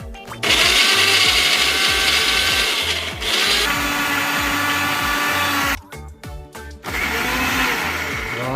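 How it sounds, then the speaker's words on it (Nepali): A kitchen mixer grinder whirs loudly as it blends tomato chutney for momos, a steady motorized drone that cuts out briefly near the end, pulses, then resumes at full power. "अब भने मिक्सर ग्राइन्डरमा हालेर यसलाई पिस्छौँ है।"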